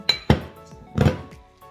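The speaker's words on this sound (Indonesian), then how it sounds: "kita akan memasukkan bayam di wajan ini tanpa menggunakan minyak" Spinach leaves drop into a dry, unheated metal pan with no oil, a couple of clinks and soft thuds, close by, then a brief rustle settles.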